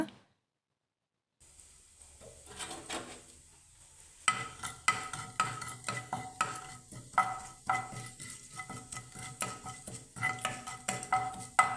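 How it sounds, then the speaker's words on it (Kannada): Whole black peppercorns and cumin seeds roasting in ghee in a pan for an amruthaballi leaf tambuli, stirred with a utensil that scrapes and clinks against the metal in a steady run of taps and scrapes, close and alone. "ಹುರಿಬೇಕದನ್ನು ಹೀಗೆ ಚಂದ ಕಾಳುಮೆಣಸು ಮತ್ತು ಜೀರಿಗೆಲ್ಲ ಸ್ವಲ್ಪ ಕೆಂಪಾದಾಗ"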